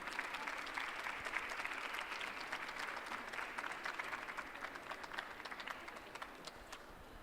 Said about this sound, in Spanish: le brindamos un fuerte aplauso a la maestra